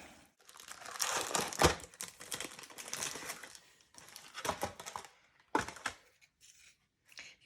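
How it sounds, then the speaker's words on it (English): Plastic packaging holding Stilton fig crackers is shuffled and crinkled by hand. Bursts of crisp rustling come up close and at a low level, broken by short pauses. "If you wonder what the shuffling was, it was me trying to get the cracker out."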